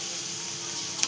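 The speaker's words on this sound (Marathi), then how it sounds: "आता आपण त्यात टाकणार थोडंसं हिंग" Asafoetida (hing) drops into hot oil for a sprouted moth bean curry, giving a soft, steady sizzle with a couple of faint ticks, close and low in level, with no talking.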